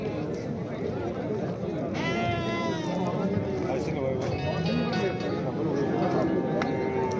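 Sheep bleat at the Do'stlik livestock market, wavering calls rising now and then over a busy crowd of traders talking close by.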